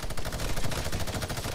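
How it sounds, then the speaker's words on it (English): Rapid sustained minigun fire in Fortnite, a dense, loud stream of shots rattling continuously for the whole stretch with no pauses. "Oh shoot, they have a minigun too!"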